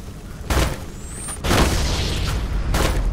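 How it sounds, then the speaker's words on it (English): Sticky grenade going off in a Halo game: a heavy booming blast that rumbles on under ongoing combat noise, after a few softer thuds. "I threw a sticky grenade"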